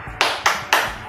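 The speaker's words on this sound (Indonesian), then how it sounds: "Tepuk semangat." A teacher's three sharp, close hand claps in a steady rhythm, a classroom 'tepuk semangat' spirit clap, each crisp and evenly spaced with nothing else around.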